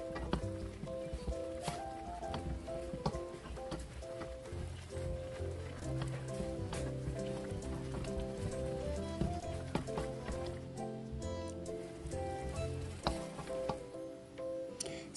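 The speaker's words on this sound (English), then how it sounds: "I let that simmer for probably about 1 minute" A pot of odong noodle soup with clams and Malabar spinach bubbles and sizzles softly at close range, a constant low hiss with light ticks, backed by quiet music.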